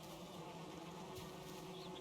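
Bees buzz at a beehive in the game Valheim, a steady, faint insect drone running unbroken through the short stretch with no voices.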